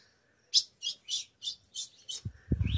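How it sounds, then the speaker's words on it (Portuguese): Female ultramarine grosbeak (azulão) in an aviary gives a series of six short, bright chirping calls at a steady rhythm, close and clear, followed by a brief low thump and rustle at the end. "A fêmea de azulão."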